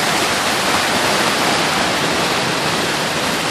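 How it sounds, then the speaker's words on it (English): Waterfall at the San Antonio River Walk, a steady broad rush of falling water that fills the whole clip, loud and close with no break or change in level. "Look at that waterfall."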